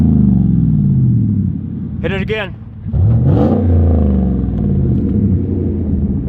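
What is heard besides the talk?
Chevy Silverado 1500 dual exhaust revving after muffler install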